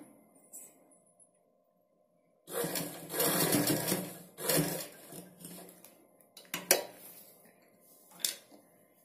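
A sewing machine stitches the front panel of a blouse in several short whirring runs of rapid needle clatter, close by, separated by quiet pauses.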